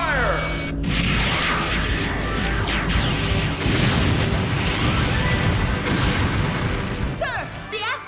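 An asteroid blows apart in a Robotech anime battle. Heavy booming blasts and crashing debris roll on for several seconds, with sweeping high effects, sharp bursts near the start and end, and voices partly mixed in.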